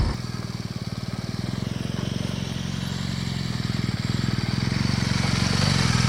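Off-road motorbike engine during slalom training, a close, pulsing, rapid thump of a single-cylinder motor, steadily chugging and gradually swelling in loudness, with no talk over it.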